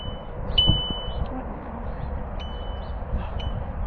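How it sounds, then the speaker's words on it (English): A foaling alarm, set off by a mare lying down in a field, gives short repeated electronic beeps, thin and high, with uneven gaps over a soft background hiss. "it's telling me about another mare that's laying down in the field. Bree's over there taking a nap, so we'll silence her alarm"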